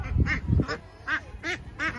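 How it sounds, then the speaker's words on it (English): Sebastopol geese calling at a pumpkin patch farm, a series of about five nasal honking calls at a steady pace, fairly close, with a few low thumps early on. "they have a Sebastopol geese"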